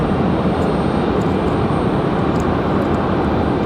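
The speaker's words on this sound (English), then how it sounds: "This one here already cleared for takeoff." An airliner rolls down the runway for takeoff at Raleigh-Durham International Airport, a loud, steady broadband engine roar that stays constant throughout without any break.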